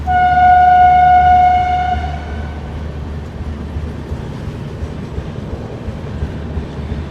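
Express train passing through Patel Nagar railway station in Delhi, opening with a loud sustained horn blast for about two seconds, then a steady rumbling roll of wheels on track continuing to the end.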